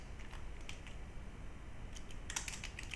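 Short bursts of keystrokes on a computer keyboard, a few quiet taps early and then a quick cluster of clicks near the end, close and soft against a faint steady background hum.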